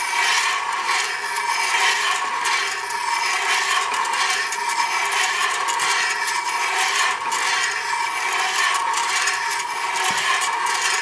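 A ridge reamer cuts the worn ridge at the top of a cylinder in an engine block, a steady close metallic rasping scrape that grinds on continuously and loud without talk.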